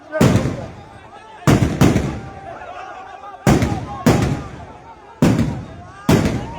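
Firecrackers burst at an election campaign rally in Tamil Nadu, six sharp loud blasts arriving in uneven pairs and singles, each trailing off into a noisy crowd with voices talking throughout.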